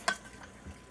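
Seasoned chicken with scallion and geera being stirred and mixed, one sharp scraping stroke followed by quieter shuffling, close and fairly soft, with no voices.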